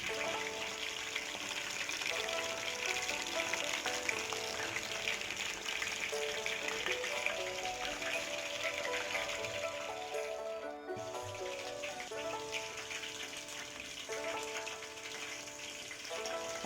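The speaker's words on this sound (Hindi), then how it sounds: "देखिए कैसा सिजलिंग नॉइस आ रहा है।" Chicken lollipop pieces fry on a slow flame, giving a steady, moderate sizzle that runs continuously with a faint musical tone underneath.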